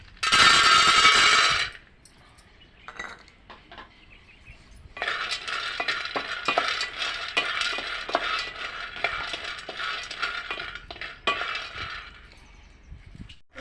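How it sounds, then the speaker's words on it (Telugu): A quarter kilo of peanuts roasting in a pan for flax seed laddus gives a steady run of dry rattling and clinking as they are stirred, led by a loud burst of scraping and settling into continuous close stirring. "పల్లీలు వేసుకోవాలి పల్లీలు వేయించుకోవాలి పావు కిలో"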